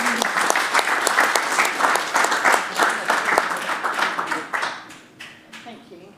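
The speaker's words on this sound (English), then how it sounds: "A round of applause." An audience at a council meeting claps loudly and steadily for several seconds, then the applause thins out and fades to a few scattered claps.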